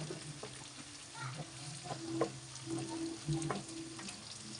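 Garlic fries in a pan with chili while vegetables are being cooked, a quiet, steady sizzle broken by occasional stirring clinks and scrapes.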